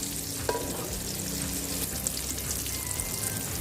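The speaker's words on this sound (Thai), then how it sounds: "ระหว่างการทอดค่ะก็หมั่นตะแคงดูนะคะ ว่าด้านล่างค่ะมันเหลืองหรือยังนะคะ" Salted fish frying in oil in a pan, a dense, continuous crackling sizzle heard close and steady with no voices.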